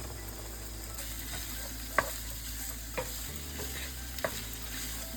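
Paneer cubes being tossed and stirred in a hot pan, a continuous close sizzle broken by a few sharp scraping knocks of the utensil at uneven intervals, fairly quiet overall and with no voices.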